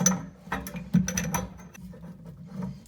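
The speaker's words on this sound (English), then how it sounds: "I'm threading that hexagonal nut up onto that bolt using this tool" A spanner-style hexagonal tool threads a hex nut up onto a bolt beneath a bathroom vanity, giving a run of close mechanical ratcheting clicks and metallic scrapes over a steady low hum.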